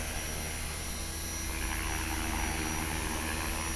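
A small radio-controlled helicopter's engine and rotor whine steadily and loudly as it flies and lands, a constant buzzing drone with no pauses.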